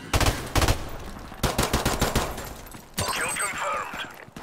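Rapid bursts of M16 rifle fire in the video game Modern Warfare Remastered, loud repeated volleys with short gaps between them, followed by a stretch of game noise and effects.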